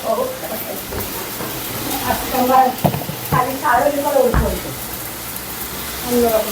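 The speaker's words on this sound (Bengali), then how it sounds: "বিশাল বড় তরকারি গোস্ত রান্না হচ্ছে গোস্ত অন্যরকম করে" Meat curry sizzles and spatters in hot oil while being stirred, with a steady close frying hiss and occasional scraping. Voices talk briefly over the cooking.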